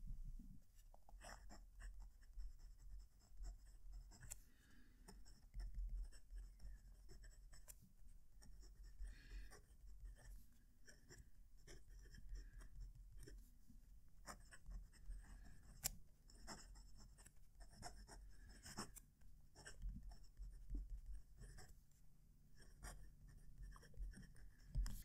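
Narwhal Schuylkill fountain pen nib scratching across paper, close and quiet, with a steady run of short strokes and brief pauses for about twenty-five seconds, no voices.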